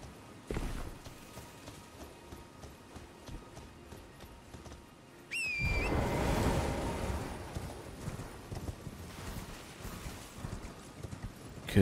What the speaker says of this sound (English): Okay, you can ride a horse here.